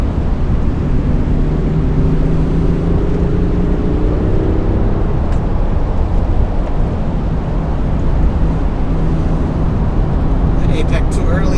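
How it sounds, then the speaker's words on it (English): BMW i8 Roadster on a wet track, its tires screeching at the traction limit as a steady drone of engine and wind noise runs loud and close throughout. "See, you hear screaming, hear tires screaming."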